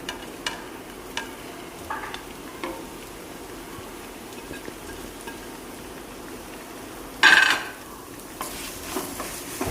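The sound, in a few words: onion frying and stirred in pan for chicken cutlet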